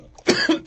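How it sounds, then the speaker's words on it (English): Three harsh coughs from one person in quick succession, close and fairly loud, with no talking in between. "excuse me with the coughing and stuff"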